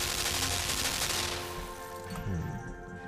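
A turret in the video game Limbo fires a rapid burst of loud, close gunshots that crackle densely, then trail off into a ringing tail.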